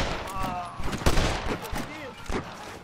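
Gunfire in the video game Red Dead Redemption in the streets of St. Denis, several sharp shots and a short volley mixed with game sounds and a voice talking over it.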